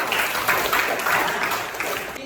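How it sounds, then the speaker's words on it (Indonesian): Schoolchildren in a classroom give their classmates a round of applause after a quiz game, a steady, dense clapping that holds at an even level from start to finish. "anak-anak kita beri aplaus kepada teman-temannya yang sudah menjawab pertanyaan-pertanyaan"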